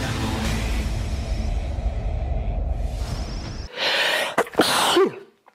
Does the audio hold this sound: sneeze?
yes